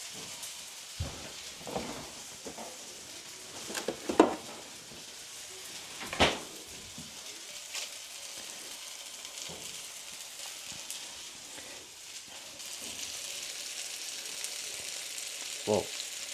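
Butter goes into a frying pan with a steak, bringing a soft, steady sizzle broken by several sharp clatters and pops, with the hiss growing louder toward the end.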